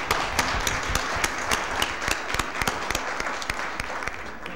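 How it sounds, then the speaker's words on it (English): Applause at a St. Louis Board of Aldermen meeting, a dense run of clapping with sharp individual claps standing out, steady and fairly loud throughout without talk. "Let's give him a round of applause."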